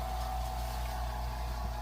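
A vacuum chamber pump degasses plastic for a WU Molds bait mold, giving a steady, close mechanical hum and drone that holds level throughout with no talking.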